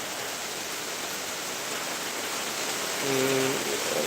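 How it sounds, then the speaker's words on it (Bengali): Torrential rain pouring over Bhangura bazar in Pabna makes a continuous broadband hiss. A brief tonal sound rises over it near the end. "প্রচুর বর্ষণ যাকে বলে মুসুলধারে বৃষ্টি হচ্ছে"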